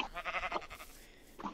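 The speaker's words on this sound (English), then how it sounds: "There's so many sheep here." Sheep bleating in modded Minecraft in a savanna, two short nasal bleats, the first longer and wavering, the second brief at the end, fairly faint.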